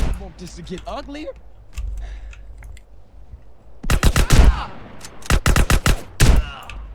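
Gunfire in GTA San Andreas: after quiet moments with a voice, several rapid, loud bursts of close shots crack out in quick clusters.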